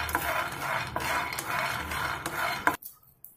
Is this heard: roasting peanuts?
yes